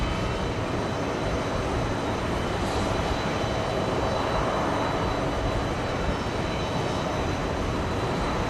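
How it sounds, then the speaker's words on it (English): A Japan Airlines Airbus A350 landing at JFK airport after a long flight: a steady, loud broadband jet roar that holds evenly throughout, heard from a spotting spot with no talk. "We have an A350 landing in a few seconds."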